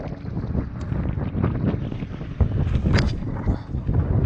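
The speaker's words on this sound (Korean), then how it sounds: "와뭔 바람이 이리 많이 분데" Strong wind at the sea during a sea bass lure-fishing trip, loud buffeting gusts roaring over the microphone with low rumble and some water noise, no speech.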